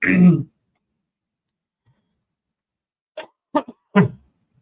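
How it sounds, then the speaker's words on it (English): A short throaty cough or throat clear lands close on a microphone, followed after a pause by a few quick, clipped coughs or voice sounds. "I was coughing in everybody's ear."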